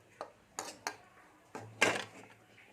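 Cashew and raisin filling for stuffed pointed gourd stirred in a pan, with five sharp metallic scrapes and clinks of a utensil against the pan, spaced irregularly and close, the last one loudest.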